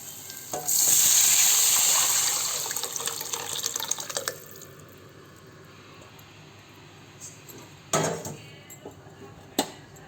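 Spices crackle and sizzle loudly in hot oil for tomato rasam, a bright burst that fades over a few seconds into quieter bubbling, with a couple of sharp clinks later.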